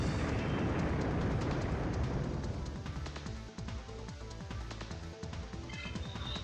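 Fire attack in the Digimon World video game, a Kotemon battle: a loud, continuous roaring blast of fiery rumble that swells and sustains for several seconds, with crackling bursts and a scattering of sharper hits toward the end.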